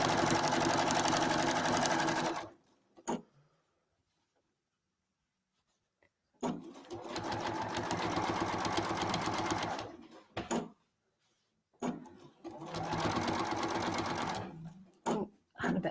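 A sewing machine stitches a quilt's binding closed, running in three loud, steady bursts of rapid whirring with short pauses and a few clicks between them, close up and with no talking.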